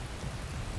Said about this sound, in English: Oh, it would be raining, wouldn't it?